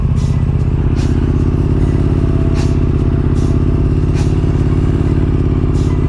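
A motorcycle engine idles and runs steadily in first gear at low speed with the clutch partly in, a continuous close, even drone with faint clatter throughout.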